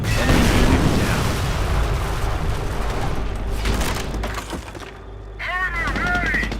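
Gunfire and explosions in the Company of Heroes real-time strategy game: rapid cracking shots and dull booms keep rolling across the whole stretch, loud and dense, with a unit voice line calling out over the battle near the end.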